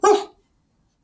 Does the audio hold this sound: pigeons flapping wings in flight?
no